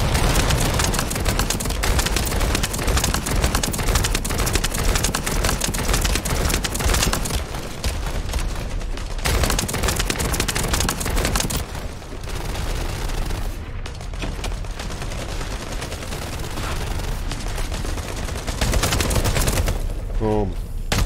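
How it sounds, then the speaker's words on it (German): Targets are shot apart in a dungeon boss fight in The First Descendant, with dense, loud sustained gunfire and rapid bursts almost throughout and brief lulls. "Ich muss die Dinger kaputt schießen."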